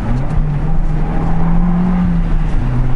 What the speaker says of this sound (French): Là, j'essaie de passer la puissance au sol, ça passe pas.